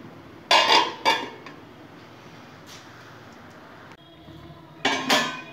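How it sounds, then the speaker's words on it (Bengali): A lid being set on a cooking pan of cucumber curry: several clattering metallic clanks, a pair near the start and another at the end, close and fairly loud over quiet background, with no talk. "এখন আমি ঢাকা চাপা দিয়ে 10 মিনিট পর ফিরবো।"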